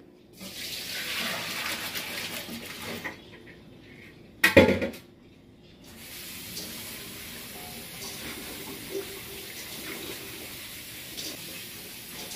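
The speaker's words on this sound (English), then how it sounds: "Now I'm gonna go ahead and rinse them in this colander. And I'm gonna rinse them under cold water." Tap water runs steadily into a sink as potatoes are rinsed in a colander under cold water, with a brief clatter of something knocked about midway, then the flow continues evenly.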